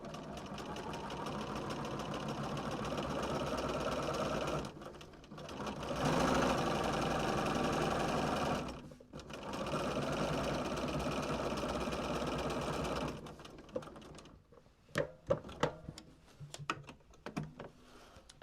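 A sewing machine stitches a quilt block for a beginner's half square triangle, running steadily in several long bursts with short pauses, then a few sharp clicks and handling noises at the end.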